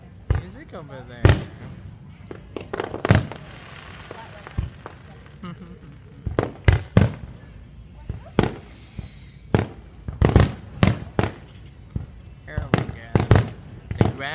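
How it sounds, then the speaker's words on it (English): A Fourth of July fireworks grand finale at The Viridian in Arlington, Texas, with dense, rapid-fire booms and cracks packed closely together, loud and sustained, while people talk in the background. "Grand finale."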